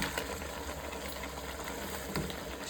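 Beef paya in tomato masala frying in a pot, a steady low sizzle and crackle running throughout with no talking, a brief louder clatter at the very end.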